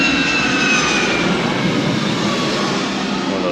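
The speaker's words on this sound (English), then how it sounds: "One of those planes passing by." A passenger airplane passes overhead with a steady, loud broadband engine roar that holds evenly throughout, heard from outside near a rideshare driver's car.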